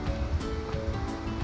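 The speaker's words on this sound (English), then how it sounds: "Here's the next waterfall." Waterfall on a hike at Silver Falls, a steady rushing roar of water heard close by, with no talk over it.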